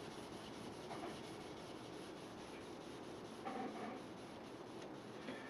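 Sandpaper rubs steadily back and forth along a soft knife blade, a faint, continuous dry rasping with slight rhythmic swells, no voices.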